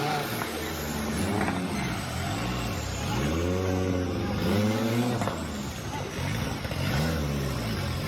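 Super open class off-road race car at a Chiang Mai forest off-road challenge, engine revving loudly in repeated rising and falling surges, close and continuous throughout.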